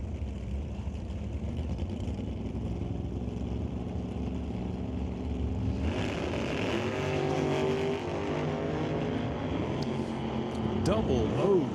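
Nitro dragster launching at an NHRA Northwest National Open drag race: a loud, steady engine roar that surges and climbs in pitch partway through, with an announcer talking over it.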